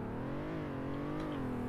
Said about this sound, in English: So the acceleration is actually pretty good for the size of this car.